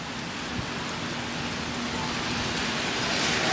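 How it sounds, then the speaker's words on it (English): Heavy rain pounds the ground during a massive rainstorm in Brandon, Manitoba, Canada, a dense, steady close-up hiss of countless drops that swells slightly louder toward the end, with no voices. "The ambiance of the rain hitting the ground is quite spectacular."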